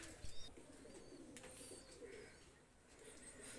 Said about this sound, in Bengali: এই দুইটা রানিং কবুতর নিয়ে আসলাম